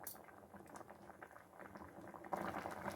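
Fish roe and mango ambol with jaggery bubbling in a pan, close crackling simmer with irregular pops that grows louder and busier in the last second.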